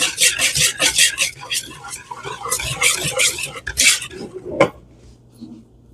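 Cornbread batter of flour and other ingredients being stirred in a bowl, giving a run of close, busy scraping and clinking strokes that stop abruptly near the end, followed by quiet.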